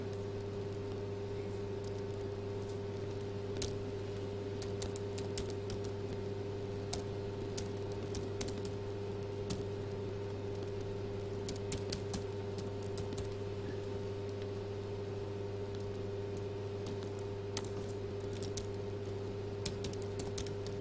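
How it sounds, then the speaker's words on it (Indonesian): Steady typing on a computer keyboard, with scattered clicks and short bursts of keystrokes running throughout over a constant low electrical hum. "setahu saya ini dia nggak bisa di copy paste kayaknya, jadi sebaiknya dia diketik aja"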